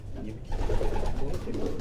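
Champion racing pigeons at a loft in Quetta coo in soft, low, rolling bursts that swell after a brief quiet start and continue steadily at close range.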